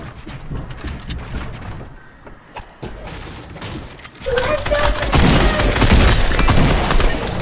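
Gunfire in the video game Fortnite, a run of bursts that grows louder and denser in the second half, mixed with mechanical clicks and game effects.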